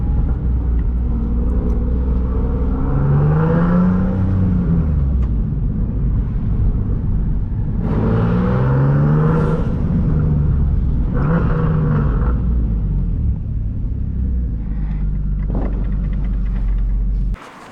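A Nissan 370Z sleeper build's exhaust drones deep and loud, swelling in repeated revs that rise and fall, with faint crackling pops between pulls, heard up close without talk.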